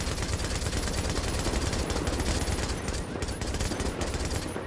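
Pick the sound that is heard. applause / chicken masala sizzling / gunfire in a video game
gunfire in a video game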